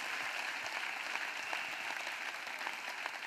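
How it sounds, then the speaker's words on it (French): A congregation at a French-language prayer and intercession service claps together, a dense, steady wash of many hands filling the room for a few seconds without a break. "Let us clap for Jesus"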